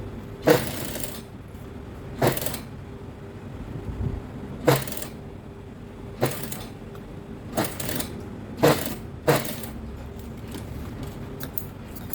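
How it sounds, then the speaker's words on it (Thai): A sewing machine stitching along a seam pressed open flat, sounding as short bursts of mechanical whirring separated by pauses over a low steady hum, close and moderately quiet. "เปิดตะเข็บให้แบแล้วเราก็เย็บ"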